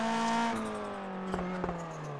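Sim racing race car at Sonoma in an esports championship: a steady engine drone with shifting pitch through the final corners, brief sharp transients of gear changes or tire scrubs, close and loud, no talk.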